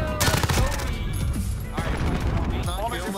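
Rapid bursts of gunfire in a Call of Duty Search and Destroy match, several sharp shots crackling close and loud amid fast, excited talk from players.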